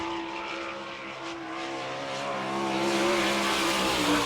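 Sprint car engines roar and rise in pitch as they pass at speed on a dirt track in Barberville, Florida, a loud sustained whine building toward the end.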